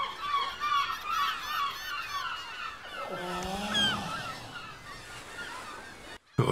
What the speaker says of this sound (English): Oh, seagulls.